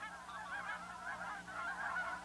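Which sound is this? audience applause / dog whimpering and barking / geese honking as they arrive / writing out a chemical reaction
geese honking as they arrive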